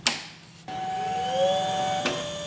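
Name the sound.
printer being turned on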